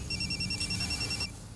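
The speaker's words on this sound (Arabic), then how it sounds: "يا باشا تلفون" A telephone bell rings in rapid repeated trills, loud and close, for about a second before cutting off, with no talk over it.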